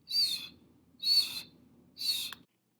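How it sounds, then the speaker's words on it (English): A House Sparrow gives three evenly spaced, high chirps about a second apart, each short and bright, close and clear with silence between them. "House Sparrow."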